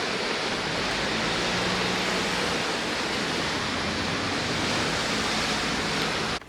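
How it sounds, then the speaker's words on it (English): A river swollen with floodwater after a typhoon rushes past close by, a loud, dense, unbroken roar of churning water that holds steady throughout before cutting off at the end. "the river is obviously super flooded on this side"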